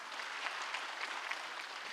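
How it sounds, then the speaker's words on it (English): Audience applause at a land lease distribution ceremony, a steady wash of many hands clapping at moderate level with no talk over it. "Ladies and gentlemen, if I may, that deserves a bigger round of applause."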